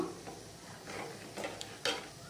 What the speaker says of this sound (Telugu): అంతా కూడా ఒకసారి మిక్స్ చేసుకుందాం